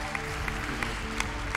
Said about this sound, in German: Einen großen Applaus bitte für Emily und für Joy.